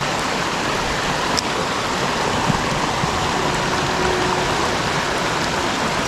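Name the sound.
shallow brook water flowing into a deep pool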